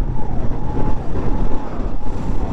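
An ambulance siren wails through busy road traffic, its rising and falling tone sweeping continuously over loud engine and wind rumble heard from a moving vehicle.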